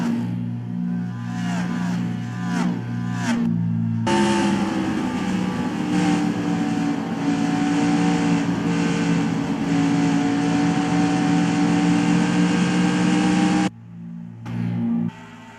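Several NASCAR race cars in the NR2003 racing game at a mock 2018 Pennzoil 400 roar continuously with steady engine drones, briefly cutting out near the end before resuming, loud and close with no talk.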